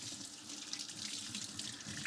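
A kitchen sink faucet runs steadily, a continuous broadband rush of water splashing into the basin while dishes are hand-washed, close and fairly quiet with no pauses.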